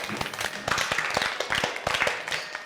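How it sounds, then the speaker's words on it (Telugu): Audience clapping at a women's entertainment show, a brief burst of scattered, steady applause from a group of people nearby. "కొట్టాలి క్లాప్స్"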